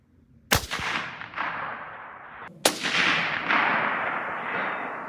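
Two sharp hunting rifle gunshots fired outdoors about two seconds apart, each a loud crack followed by a long rolling echo that fades slowly.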